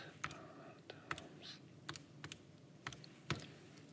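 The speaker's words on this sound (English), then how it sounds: "So now I'm just going to type all that in." Keys tapped in short bursts on a computer keyboard while entering numbers for an area calculation, a handful of crisp separate clicks spaced through the moment, close and fairly quiet over a soft background hiss.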